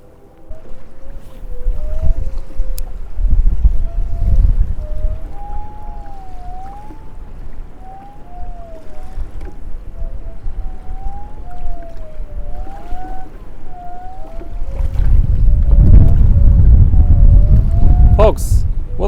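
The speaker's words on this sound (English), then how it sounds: "The wind is starting to become an issue" Strong wind buffets a lake beside a fishing boat, gusting loud and rumbling in waves with a wavering tonal whine over it, strongest near the end.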